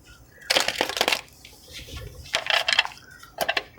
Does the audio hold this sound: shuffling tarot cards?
yes